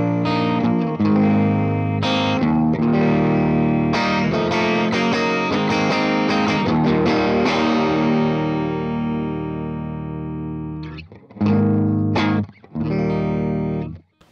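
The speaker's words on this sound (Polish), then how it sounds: "Tutaj dźwięk się wyczyści, ponieważ sygnał gitary spadnie" Electric guitar played through a Morgan AC20 amplifier on a pickup combination setting, giving a cleaner tone: sustained ringing chords that fade out, then several short loud strummed stabs near the end, with no talking.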